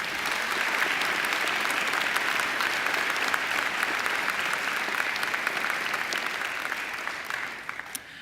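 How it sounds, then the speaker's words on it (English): An audience at a university graduation ceremony claps in a sustained, dense round of applause, steady and loud from many hands before tapering off near the end. "I think she deserves another great round of applause."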